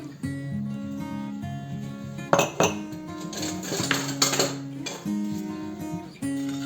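Oil and sugar mixed in a bowl for Tunisian yoyo dough, a utensil clinking and scraping against the bowl in several sharp bursts over a faint tonal background hum.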